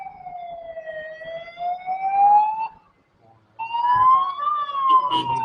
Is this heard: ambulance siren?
yes